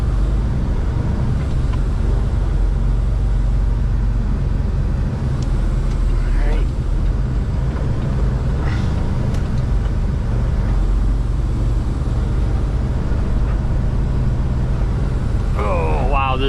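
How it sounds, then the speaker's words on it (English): Long diesel truck swinging through a wide turn, with a loud, steady engine and road rumble filling the cab, and a voice talking over it. "Downside to having a nice long truck is that you got to make a really nice big wide turn."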